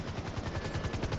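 An FIB helicopter in the GTA 5 video game chops with rapid, rhythmic rotor pulses, loud and close, over a short burst without speech.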